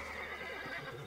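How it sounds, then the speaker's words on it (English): A horse whinnies in Red Dead Redemption, a short, tonal neigh over a low rumble of game ambience, heard alone and fairly quiet. "Looks like Carlos left us some horses."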